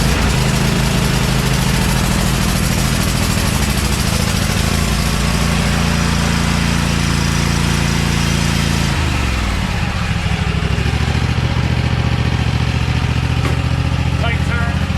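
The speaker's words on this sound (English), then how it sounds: "Kohler 7000 Elite Series." A Kohler 7000 Elite Series 24 hp lawn tractor engine running steadily and loud, a constant low drone that shifts pitch and settles lower partway through, with a voice speaking over it.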